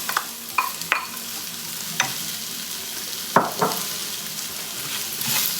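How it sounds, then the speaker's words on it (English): A spoon stirs a spicy potato mixture with chili and chopped coriander in a pan, giving a few sharp scraping clicks over a soft steady sizzle. "now stir it"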